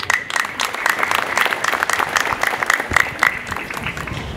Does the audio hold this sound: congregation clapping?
yes